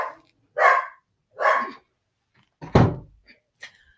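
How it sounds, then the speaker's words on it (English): Dogs barking indoors, three sharp loud barks spaced about a second apart, then a heavier thud and a couple of faint yips, close to the microphone. "my dogs and their canine toxic masculinity intruding on things"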